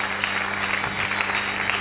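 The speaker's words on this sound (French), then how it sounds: "Nous acclamons très fort." A church congregation at a Sunday live service claps loudly and continuously, a dense wash of applause throughout with a steady low hum underneath.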